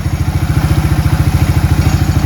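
A 1994 Suzuki Quad Runner ATV with a smoking problem idles loud and close, its engine putting out a fast, even, throbbing beat the whole time.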